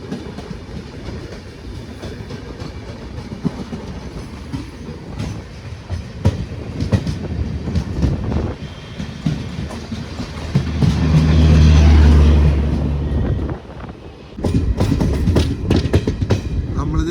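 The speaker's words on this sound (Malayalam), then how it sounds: "12695 MGR Chennai central Trivandrum central super fast express വർക്കലേക്ക് വന്ന് കയറിക്കൊണ്ടിരിക്കുകയാണ്." The 12695 MGR Chennai Central–Trivandrum Central Superfast Express pulls into Varkala station, with a running rumble and rhythmic wheel clatter, a deep heavy surge as the locomotive passes close, then carriages clacking by loudly.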